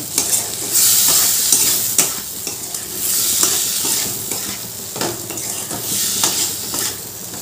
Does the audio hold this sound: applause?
no